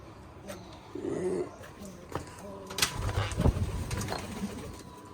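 Pigeons coo in a coop, low soft throaty calls repeating near the start and middle, with clattering and other movement noises around them.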